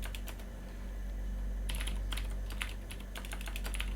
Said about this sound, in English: I do like these keyboards. These are KBC keyboards. They use the cherry blue